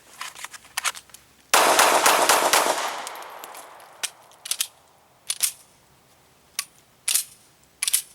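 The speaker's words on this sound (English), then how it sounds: "We're going to draw from concealment and fire this mag completely empty." A Ruger LC9s pistol fired from a concealed draw, a sharp loud shot followed by a string of separate, irregular gunshots with pauses between them, the last ones coming after a malfunction.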